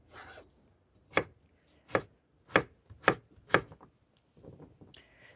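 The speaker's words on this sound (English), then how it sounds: "So I'm just going to cut the potatoes, in thin pieces." Knife chopping potatoes into thin slices on a cutting board, five crisp, evenly spaced chops close up with quiet handling noise before and after, no talking.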